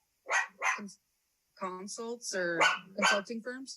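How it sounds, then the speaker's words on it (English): A dog barks twice close to the microphone during a remote city council meeting, followed by a person speaking. "Sorry about the dog."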